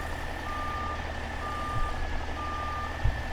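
A truck in American Truck Simulator backs up with a steady engine drone under evenly spaced high reversing beeps, close and continuous throughout.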